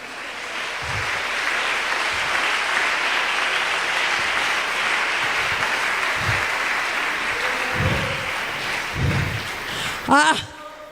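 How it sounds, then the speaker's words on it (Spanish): A church congregation gives a sustained round of applause, a dense, loud wall of clapping filling the room, with scattered voices and a short cry rising near the end. "Dale un aplauso al Señor en esta mañana."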